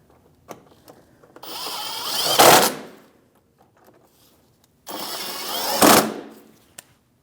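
A 1/4 inch drive tool fastens the plastic engine splash shield inside the fender well of a 2016-2025 Chevrolet Malibu in two loud, close bursts of whirring, each about a second and a half long and rising to a sharp finish.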